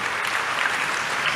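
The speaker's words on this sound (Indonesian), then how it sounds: "Tepuk tangan yang paling meriah buat Tuhan." A church congregation at a Saturday evening service claps together in a brief, steady burst of dense applause, even in loudness throughout with no voices standing out.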